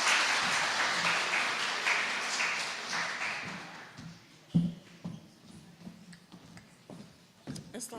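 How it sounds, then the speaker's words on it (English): Audience applause for a speaker at a nursing department colloquium, fairly faint clapping that fades over about four seconds, followed by scattered taps, footsteps and shuffling in a quiet room. "So if you would all please join me in a big round of applause."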